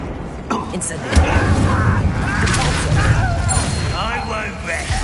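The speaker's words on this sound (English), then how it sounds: "Incendio!" An Incendio fire spell in the video game Hogwarts Legacy bursts with a loud whooshing boom, followed by crackling, crashing battle noise that stays dense throughout while a voice speaks over it.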